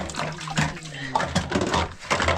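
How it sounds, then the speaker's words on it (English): Tap water running and splashing during handwashing indoors in a kitchen, an uneven spatter with a voice talking over it. "I'm gonna wash my hand inside here."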